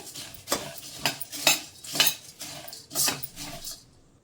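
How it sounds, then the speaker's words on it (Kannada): Puffed rice stirred and roasted in a pan, heard as a run of sharp, close scrapes and clinks of a spoon against metal about every half second over a faint crackle, with no voices. "ಈ ಟೈಮಲ್ಲಿ ಪೂರಿನ ಹಾಕ್ಕೊಂಡು ಸ್ವಲ್ಪ ಫ್ರೈ ಮಾಡ್ಕೊಳ್ಳೋಣ"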